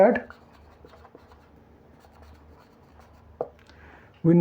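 Marker or chalk scratching across a board during a physics lecture on alternating current, faint soft strokes and taps between louder moments of a teacher's voice at the start and end.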